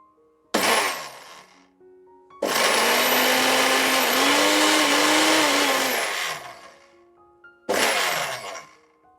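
A Philips Series 5000 blender with a 1200 W ProBlend Plus motor, loud and close: a short burst, then a sustained high whirring run of several seconds with slight pitch shifts, then another brief burst.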